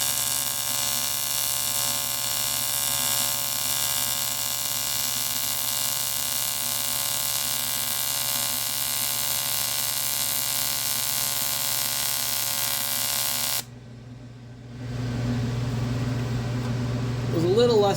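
A 65-amp arc weld burns with a steady, loud buzzing crackle that the welder struggled to start. It cuts out briefly near the end, then resumes with a rough hum.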